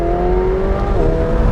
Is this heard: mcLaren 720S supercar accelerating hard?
yes